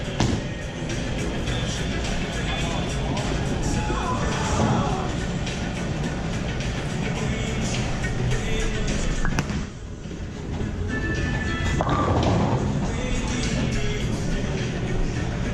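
On a house-shot pattern, a bowling ball thrown two-handed rumbles steadily as it rolls down the lane, a continuous low roar with a brief dip partway through, with faint background noise from the alley.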